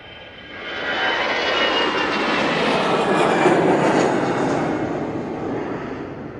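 A departing airliner roars steadily at Manchester Airport, its jet engine noise building and holding loud and broad before easing slightly, heard from a distance with no talking.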